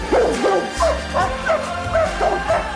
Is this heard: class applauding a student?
no